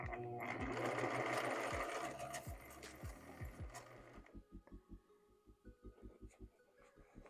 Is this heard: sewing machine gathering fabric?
yes